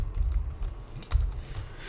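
Quiet, quick keystrokes on a computer keyboard while code is entered, soft irregular clicks close by with no voices.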